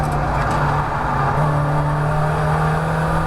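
A Mazda MX5 race car engine at Croft circuit drones loud and close at steady high revs, with a sustained tonal whine and no talk over it.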